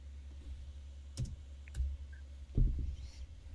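Keys tapped on a computer keyboard in a quiet room, a few sparse clicks in small clusters, soft and close, with no talking.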